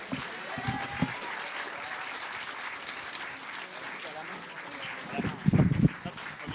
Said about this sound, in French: Je vous demande d'accueillir sous un tonnerre d'applaudissements Faustine, Adrien, Eva, Joseph et Coralie.